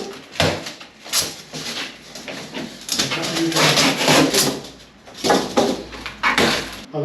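A wooden front door in an old house is shifted and held during installation, giving bursts of scraping, rubbing and knocking that come and go, with people talking in between.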